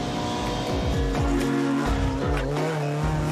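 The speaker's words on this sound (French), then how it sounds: "on a la toute première motorisation VTEC qui est sortie, avec le moteur B16 en atmosphérique" A racing car powered by the first-generation naturally aspirated Honda VTEC B16 engine revs hard, its pitch sweeping up and down through gear changes with tyre squeal, loud and close throughout.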